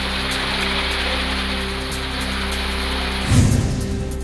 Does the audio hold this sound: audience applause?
no